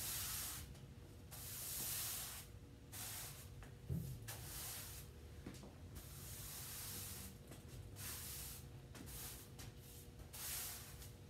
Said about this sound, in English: take your broom and sweep forward in nice, even, smooth strokes to gather all the dust, debris, and dirt into piles